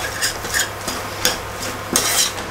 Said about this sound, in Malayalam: ഇനി നമുക്ക് 1/2 ടീസ്പൂൺ മല്ലിപ്പൊടി ചേർത്ത് കൊടുക്കാം. നന്നായി ഇളക്കുക.